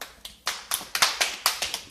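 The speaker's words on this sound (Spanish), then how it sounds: "¡Un aplauso!" A small group of children clapping in a classroom, a run of about nine sharp, evenly spaced claps, fairly close and moderately quiet, with no talking.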